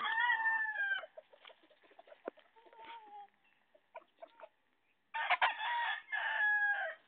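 A rooster crows in long, loud bursts at the start and again near the end, with quieter clucks and other bird calls scattered through the pause between the calls.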